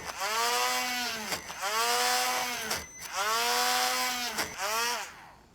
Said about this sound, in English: we don't want to be drilling into the table